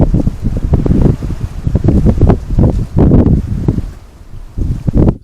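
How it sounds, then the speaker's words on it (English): Gusty wind blowing through pine woodland in December, rough loud surges rising and falling close to the microphone with brief lulls between gusts. "The gusty wind still had Smudge on edge"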